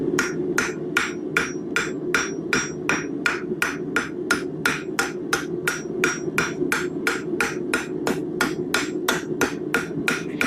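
Blacksmith hammer striking square steel stock on an anvil while forging a corkscrew, rapid steady ringing blows, about three per second, loud and close with no talk.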